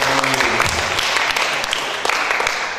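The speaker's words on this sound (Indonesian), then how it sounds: "Tepuk tangan." Audience applause at a year-end reflection gathering at STSI Bandung, dense steady clapping filling the room from start to finish at a fairly loud level.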